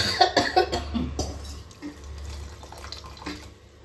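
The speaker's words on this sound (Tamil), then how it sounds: "இன்னும் கொஞ்சம் தண்ணி விட்டுக்கலாம்" Hot water is poured from close by into a cooking pot while making rasam: a steady splashing pour, with a few sharp clatters and knocks near the start.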